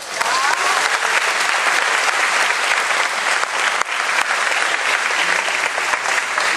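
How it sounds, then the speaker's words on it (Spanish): A large audience at a catechetical gathering breaks into loud, sustained applause, dense and steady from start to finish with no voices over it. "Aplauso."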